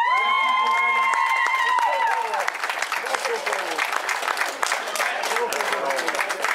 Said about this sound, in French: Applaudissements à Sarah Storey